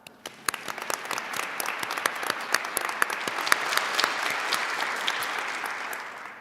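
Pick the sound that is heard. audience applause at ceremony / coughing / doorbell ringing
audience applause at ceremony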